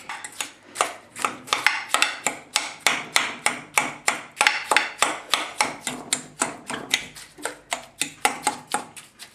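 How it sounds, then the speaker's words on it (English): A fork rakes through partly frozen grapefruit granita, producing a steady run of sharp, close scraping strokes in an even rhythm, about two or three per second, with no talking. "We're going to grab a fork and we're going to just rake it."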